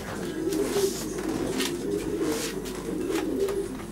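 Racing pigeons coo steadily inside a loft, a continuous low rolling murmur from several birds close by, with no speech.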